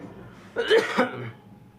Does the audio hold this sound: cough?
yes